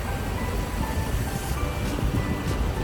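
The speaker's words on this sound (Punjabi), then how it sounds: "ਜੀ ਅਸੀਂ ਪਹੁੰਚ ਗਏ ਜੀ ਰੇਲਵੇ ਸਟੇਸ਼ਨ ਬ੍ਰਾਈਟਨ" Steady low rumble of a train at Brighton railway station, a continuous mechanical drone with faint high hiss and no clear talk.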